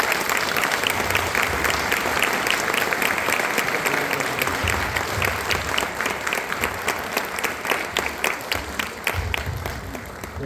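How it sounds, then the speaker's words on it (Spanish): An audience at a parents' school session on preventing adolescent suicide gives loud applause, with individual claps standing out in a fairly close, rhythmic patter that gradually tapers toward the end, with no speech. "Le damos un fuerte aplauso."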